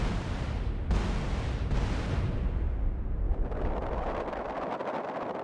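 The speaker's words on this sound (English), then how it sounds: "And explosion." A loud, booming explosion in the Grand Theft Auto San Andreas video game, a sustained rumbling blast with a couple of sharp bursts, then a crackling, fading roar.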